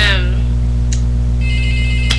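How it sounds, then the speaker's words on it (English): A telephone rings indoors with a short tonal ringtone pattern rising over a loud, steady electrical hum, fairly close and persistent. "I cannot go through a video without this fucking phone ringing"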